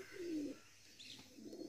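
Native breed pigeons kept in open surroundings coo softly, with one low, drawn-out coo followed by a few fainter murmuring calls nearby.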